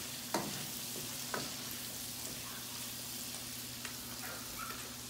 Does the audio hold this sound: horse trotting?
no